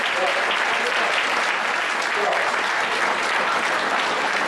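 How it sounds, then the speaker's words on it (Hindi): Audience at a Hindi poetry gathering applauding in honour of fathers, a full, even roar of clapping from a sizeable crowd that stays steady and loud from start to finish. "आप सब इस बात से सहमत हैं तो एक बार अपने पिता के सम्मान में तालियां बजाएं।"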